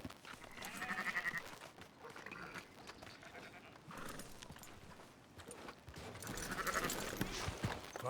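Sheep bleat faintly in the video game Red Dead Redemption 2, with soft hoof clops among the animals and a couple of clearer bleats rising out of the quiet farmyard bustle.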